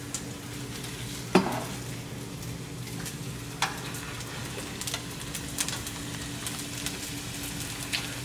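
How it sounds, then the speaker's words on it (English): Empanadas frying in hot oil in a home kitchen, a steady close sizzle and bubbling throughout with a few sharp pops and crackles, no talking. "You don't want to let your oil get too hot, okay, before you drop them in there."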